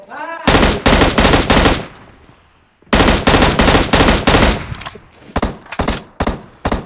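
Loud close automatic gunfire in PUBG Mobile, two sustained bursts of evenly spaced rapid shots separated by a brief pause, then a choppier run of single and paired shots.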